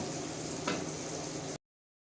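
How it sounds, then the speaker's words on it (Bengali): Prawns frying in a pan, a steady close sizzle with one brief stir or scrape partway through, no talking, cutting off abruptly before the end. "মোটামুটি একটা কালার চলে আসা পর্যন্ত আমি ভাজতে থাকব"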